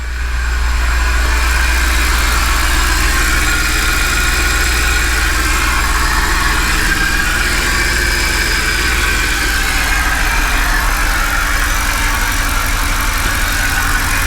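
A 2008 Mercedes CLK engine idles steadily after a starter repair, a loud, continuous low rumble with a mid-range mechanical hum and slight vibration throughout, no voices.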